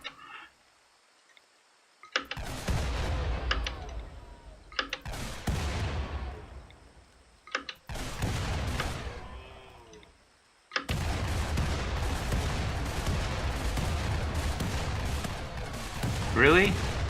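In the video game Rimworld, machine gun fire rattles out in several separate bursts of rapid, sharp shots with short quiet gaps between them, loud and dense, and a voice can be heard in between.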